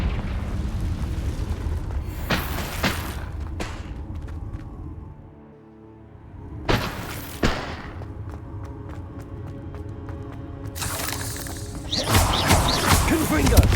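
Booming Confringo spell blasts from Hogwarts Legacy gameplay, repeated heavy explosions with crashing debris over a continuous rumbling game soundscape and music, with a spoken spell incantation.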